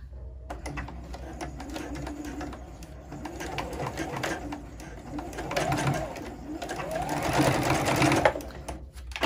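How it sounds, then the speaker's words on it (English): Sewing machine stitching fabric back and forth at about an eighth-inch seam: a steady, close mechanical rattle of rapid needle strokes that runs throughout and grows busier toward the end. "I'm just gonna pop it underneath my sewing machine at about an eighth of an inch while holding these two pieces together."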